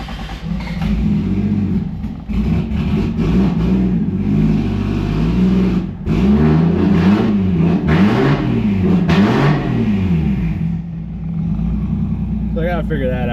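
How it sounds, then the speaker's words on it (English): A Toyota A70 Supra with a swapped JZ engine revs loud and close in repeated rising and falling pulls that stumble and hesitate on throttle, with a voice talking over the engine. "you can hear the throttle body moves with the pedal, and it'll run, but it kind of hesitates when you come on to throttle"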